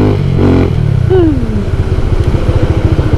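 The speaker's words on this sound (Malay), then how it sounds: "Betul-betul lama saya tak bawa motor ni" A VF3i motorcycle with a modified exhaust blips its throttle once with a rising whine, then settles into a loud, close, rhythmic idle burble.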